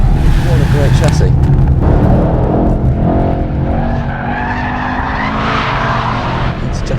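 A Mercedes-AMG E63 S drifting sideways, its engine roaring loud and close with rising revs as the tires squeal continuously, and someone talking over it.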